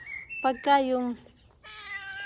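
A cat on a street in Germany gives a few clear, close meows, while someone talks softly nearby.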